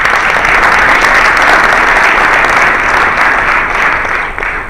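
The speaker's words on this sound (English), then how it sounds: "I think we ought to have a little applause for Suzanne." Audience applause at a U.S. Chamber of Commerce gathering in Washington, a loud dense burst of clapping from a large room that holds steady and tapers off near the end.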